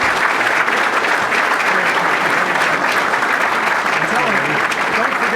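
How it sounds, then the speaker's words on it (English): Dense, loud applause from an audience welcoming a speaker at a DuPage County event, steady throughout with crowd noise and some voices mixed in. "How about a big city club? Round of applause."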